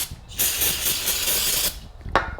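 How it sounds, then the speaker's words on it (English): Two hissing bursts of aerosol brake cleaner sprayed onto the brake rotors of a Honda Pilot, one long and one short, close up with faint mechanical clicks between them. "take some brake clean, we'll spray our rotors and wipe them off"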